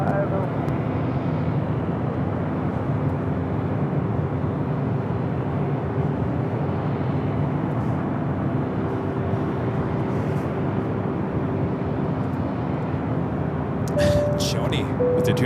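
A Delta Boeing 737-900ER jet bound for Minneapolis rumbles at Los Angeles International Airport, a steady broad engine roar from a distance running throughout, with faint tones and some clicks near the end.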